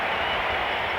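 A packed baseball stadium crowd at a 1977 playoff game in Philadelphia roars and applauds in a steady, distant wash of cheering noise with no break.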